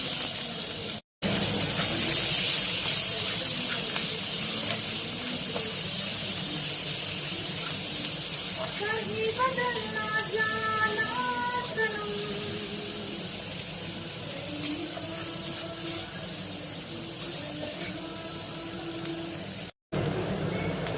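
Chopped onion dropped into hot oil with a dried red chilli and nigella seeds, giving a steady close sizzle and hiss that runs throughout, with faint kitchen clatter partway through and no talking.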